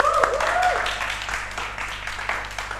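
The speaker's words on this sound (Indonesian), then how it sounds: "Beri tepuk tangan dulu dong buat Bang Rian" Studio audience applause for a guest on an Indonesian Ramadan talk show, steady broadband clapping lasting throughout, with some voice and music-like tones mixed in near the start.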